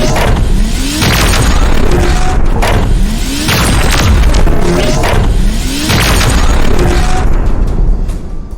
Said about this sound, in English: the big gun roared, belching a staccato stream of slugs toward the Resolve